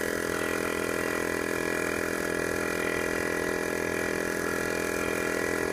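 A small portable air compressor fills a car tyre through an air hose with a steady, continuous mechanical drone and buzz that holds at an even level throughout, close by with no talking.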